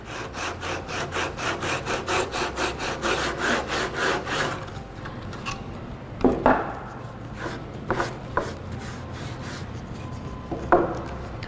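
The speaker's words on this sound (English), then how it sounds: "I'll just come back in with it and start filing" A wooden plug protruding from a door repair is filed down with steady rhythmic rasping strokes, close and regular at first, then giving way to slower scrapes and a few sharper knocks.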